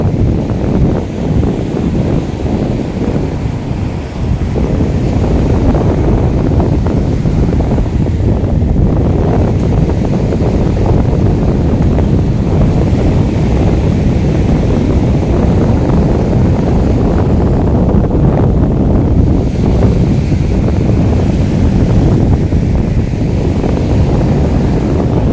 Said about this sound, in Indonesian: karena angin di sini kencang